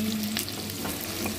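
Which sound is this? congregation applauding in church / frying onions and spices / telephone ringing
frying onions and spices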